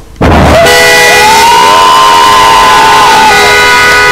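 A loud crowd of relatives erupts in cheering and shouting, welcoming home Lithuania's U-18 ice hockey champions in Kaunas, with a horn sounding above the din, close and sustained.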